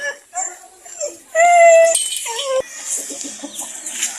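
Chickens cluck and squawk close by in short bursts, with a longer drawn-out call in the middle and some faint human voices in the background.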